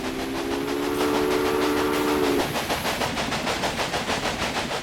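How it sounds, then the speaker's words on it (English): A train rolls along steadily in the Railway Empire video game, its sustained steam whistle blowing for about two seconds before the rhythmic clatter of wheels carries on alone. "There's a train already full of logs going there."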